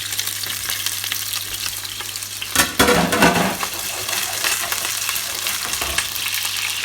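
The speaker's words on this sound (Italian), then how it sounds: "uno spicchietto d'aglio, un po' di olio e facciamo soffriggere le nostre salsicce" Sausages fry in oil with a clove of garlic in a pan, a steady loud sizzle with a brief clatter of stirring or pan contact partway through, close up with no voices.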